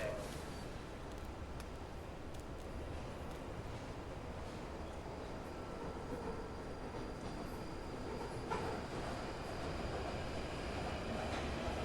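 A London Overground train departs in the video game Fallout: London, with a quiet, continuous rail rumble and faint wheel clatter running steadily for several seconds.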